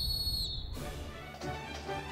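A referee's whistle is blown to start a timed run: a single short, shrill blast right at the start, quickly cut off and followed by quiet background.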